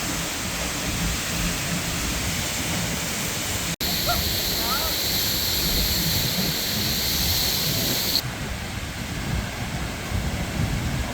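Water rushes loudly and steadily from a nearby waterfall, a dense continuous roar that stops for an instant partway through and then returns, with a voice speaking over it.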